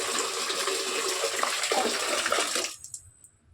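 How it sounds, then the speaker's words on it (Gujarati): Water gushes steadily from a tap into a bucket for about two and a half seconds, a dense splashing rush that cuts off abruptly, followed by a few faint drips. "અને પછી તે 1 ડોલ પાણી લેવાનું"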